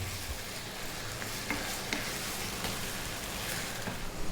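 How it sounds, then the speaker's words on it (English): Fresh tomatoes frying in a pan over medium heat, stirred now and then, give a steady close sizzle with faint scraping and stirring clicks throughout. "Give it a stir every now and then."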